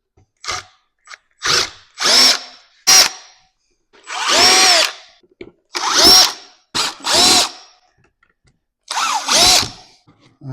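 A power screwdriver undoes screws on an Apple iMac in a series of short, close whirring bursts, some rising in pitch as each screw spins out, with silent gaps between them.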